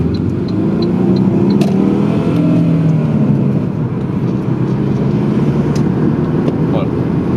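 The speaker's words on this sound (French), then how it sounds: "en termes de sonorité, c'est pas le 4 cylindres le plus dégueulasse que j'ai eu l'occasion de conduire" A Saab 9-5 Turbo four-cylinder engine drones steadily from inside the car, a loud, sustained hum that rises and holds without a break.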